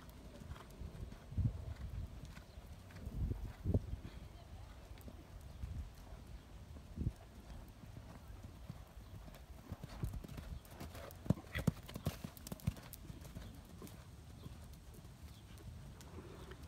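A horse cantering in a riding arena during a lesson, with soft, rhythmic hoof thuds and scattered louder clip-clops at a moderate distance and no talk.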